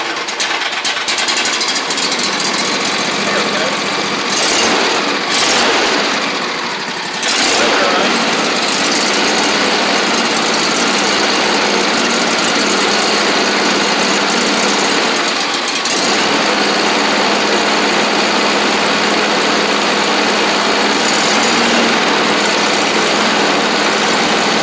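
A John Deere garden tractor engine, with a hole in its engine block, runs loud and steady at high throttle with a rough, buzzing drone, briefly dipping around the middle and then holding on without voices.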